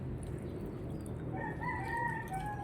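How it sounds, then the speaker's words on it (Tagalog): A rooster crows once, a drawn-out call rising then trailing off, over a low background rumble. "Nakita niyo yung manok na yan."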